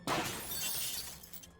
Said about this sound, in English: there was the sound of the back window glass breaking